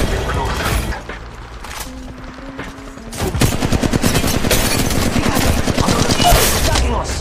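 Rapid gunfire in the mobile battle royale game Apex Legends Mobile, dense bursts of shots crackling loudly after a brief quieter moment, continuing steadily through the latter part of the exchange.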